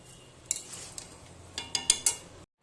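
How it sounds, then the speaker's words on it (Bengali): A utensil scrapes and clinks against a pot as raw rice is stirred for khichuri, a few quiet close taps and scrapes growing sharper toward the end over a faint low hum, with no voices. "চাল দিয়ে একটু 2 মিনিটের মতন একটু নাড়বো।"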